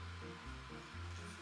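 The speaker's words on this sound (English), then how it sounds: "if you hear a hum in the background, I have a space heater going" A space heater running indoors gives a steady, unbroken electric hum with a slight whooshing airflow, moderately quiet and continuous, with no talking over it.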